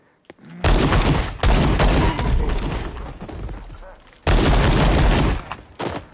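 Bursts of rapid gunfire in the VR game Paint the Town Red, loud and close, with a long volley, a short pause, then another sharp burst and a few trailing shots.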